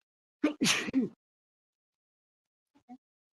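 A single short sneeze bursts out in a quiet city council meeting room, followed by a faint small sound a moment later.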